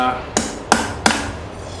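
A hammer strikes hot steel forged from an old file, three sharp, evenly spaced ringing blows close up over a steady background hum.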